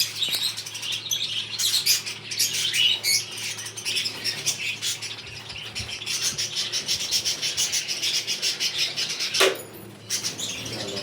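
Pet budgies and finches chirp and tweet continuously in a home aviary, a dense, steady chatter of many small birds close by, with occasional wing flutters and no talking.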